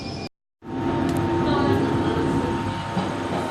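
London Underground train rumbling steadily after a brief silent gap, a continuous loud rolling roar with faint rail clatter and a thin high whine, with a person speaking over it.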